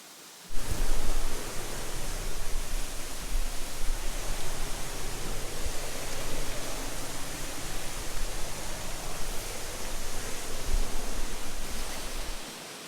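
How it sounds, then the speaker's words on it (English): A waterfall on a hiking trail in Fiji gives off a loud, steady rushing roar that starts abruptly and holds level, with no voices over it. "What a beautiful waterfall."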